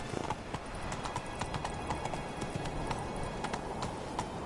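Roach the horse gallops in Witcher 3, a rapid, regular clip-clop of hooves beating a quick steady rhythm, fairly close, over a low rumble of background ambience.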